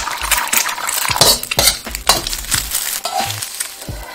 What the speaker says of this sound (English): More oil, then scramble up our eggs and put them aside.